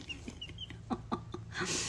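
Baby chicks in a coop with food and water make a run of soft, rhythmic clucks and peeps, fairly faint, with a brief rustle near the end and no talking.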